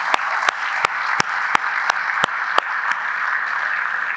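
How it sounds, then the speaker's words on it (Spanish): Church congregation applauding its teachers, a steady wash of clapping with sharp regular clicks cutting through about every third of a second, sustained at an even moderate level. "yo quiero que usted le dé un aplauso fuerte a todos los maestros de SC"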